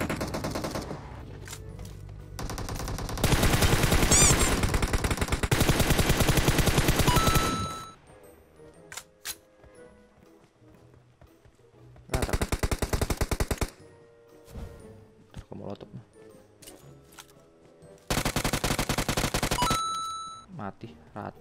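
Automatic gunfire in a shooter video game comes in three loud, sustained bursts of rapid shots separated by quieter gaps, with scattered single shots and faint game sounds between them.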